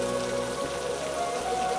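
Steady rain falls on surfaces in a town street, a dense even hiss of drops with faint low tones beneath, close and continuous.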